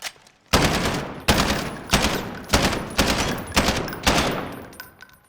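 Rapid automatic gunfire in Call of Duty Modern Warfare fired close to a wall, heard as about six loud, sharp bursts in a steady rhythm, each bursting in hard with a short tail, alone.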